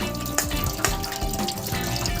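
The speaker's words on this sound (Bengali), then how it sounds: "এবার কলের তলায় বসিয়ে দিয়ে ঠান্ডা জল দিয়ে পালং শাকটা একবার ভালো করে ধুয়ে" Spinach rinsed under a cold kitchen tap, a steady close stream of running water splashing over the leaves, with a couple of sharper splashes and no talking.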